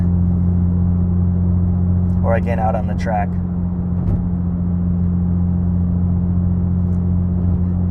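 Cabin drone of a 2002 Porsche 911 GT2 996 under way, a steady low engine hum with constant tonal rumble throughout, while someone speaks briefly in the middle.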